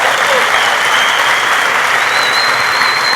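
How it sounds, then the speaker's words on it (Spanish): A church congregation at a communion service applauds loudly and continuously, a thick, unbroken patter of many hands with a faint tone rising near the end. "denle un aplauso al Rey"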